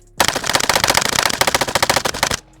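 Stenzel SAK-21 AK rifle fires one long, rapid string of shots, each report sharp and close, packed tightly together for about two seconds before stopping abruptly.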